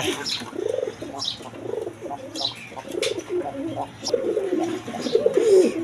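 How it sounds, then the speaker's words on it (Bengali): A pair of pigeons coo in repeated soft, rolling calls close by, with faint chirps and light background noise between them. "দর্শকবৃন্দ এখানে এক পেয়ার কবুতর আছে।"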